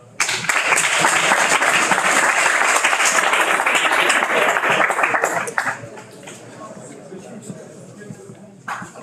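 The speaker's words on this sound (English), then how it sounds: "A big applause for the team, please." Loud, dense audience applause for a startup team at a pitch competition final, sustained for about five seconds and then dropping to a few scattered claps and room noise.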